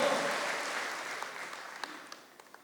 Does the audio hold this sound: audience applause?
yes